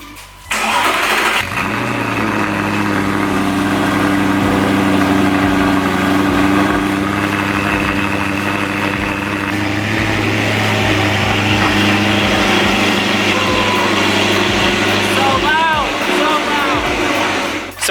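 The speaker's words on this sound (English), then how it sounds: "this is a cold start up on a 2010 Audi R8" A 2010 Audi R8 engine cold-starts with a sharp crank and catch, then settles into a loud, high, steady fast idle close by that eases slightly lower later on, with a voice briefly present.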